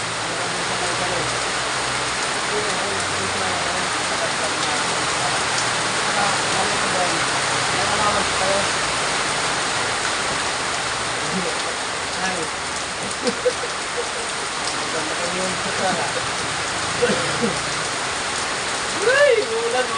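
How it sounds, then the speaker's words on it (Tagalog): Rain pours down outdoors in a steady, dense patter that fills the whole span, with people talking faintly underneath. "Ay, ulan, mababasa tayo."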